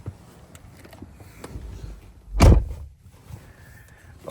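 A Dodge Charger's door is shut during a paddle shifter install, giving one loud, solid thud midway after quiet rustling in the car's interior. A faint soft whir follows.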